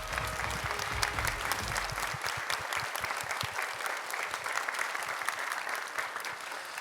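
A church congregation at a morning prayer service applauds its teachers, with steady, dense clapping from a large crowd throughout and a low hum at the start.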